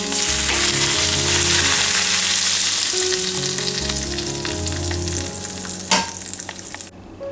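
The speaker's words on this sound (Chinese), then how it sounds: "油热了以后关火，大概150到180之间啊，一定不要冒烟，把它浇上来。" Hot chilli oil poured over fish slices for boiled fish in chilli oil: a loud, crackling sizzle bursts up and fizzes steadily, then sputters with a few pops before fading out.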